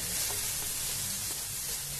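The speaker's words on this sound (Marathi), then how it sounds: "हे अगदी 2 मिनिट आपल्याला व्यवस्थित ह्याला हलवून घ्यायचं" A red chili powder and salt mixture heats in a pan, giving a dense, even sizzle that stays loud and close for two seconds with no distinct stirring strokes or voices.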